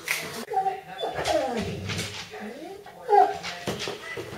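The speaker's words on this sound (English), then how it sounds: "This is my dog currently crying because I won't take him for a walk." A pet dog whines and whimpers close by indoors, a string of drawn-out, rising and falling cries over a few seconds, fairly loud and with no talk over them.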